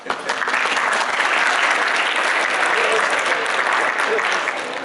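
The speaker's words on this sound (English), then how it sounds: "We need to clap for them." An audience claps loudly and steadily throughout, a dense, continuous wash of applause.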